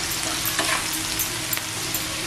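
Curry leaves fry in a hot pan for a liver masala fry, giving a steady, dense sizzle throughout with a few brief crackling bursts and no talking.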